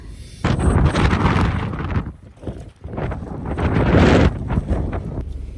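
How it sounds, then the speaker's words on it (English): Loud, blustery wind in Iceland buffets the microphone in heavy gusts, roaring low and broadband, easing briefly in the middle before surging again. "It is insanely windy outside."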